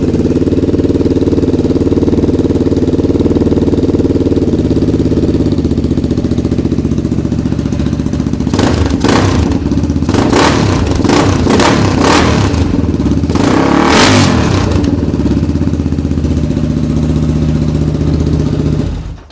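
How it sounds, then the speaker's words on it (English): Honda 400EX ATV engine, rebuilt after missing half its internals, running steadily with the choke on, then blipping through several sharp revs in the middle before settling back to a loud, close idle. "Engine runs good."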